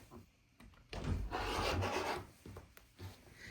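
Rotary cutter or blade trimming a quilted nine-patch fabric coaster down to size, a soft rasping rub that swells into a steady scrape for about a second, then fades into lighter strokes; close and quiet, no talking.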